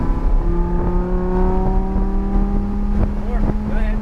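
Race car engine held under steady throttle on a track, a loud continuous drone with strong harmonic tones, some wind buffeting and a few brief chirps near the end.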